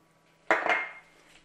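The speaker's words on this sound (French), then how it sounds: "Couper le beurre en deux." A knife slices through a block of butter on a board in a home kitchen while making pumpkin risotto, a single sharp clack followed by a brief scrape that fades quickly.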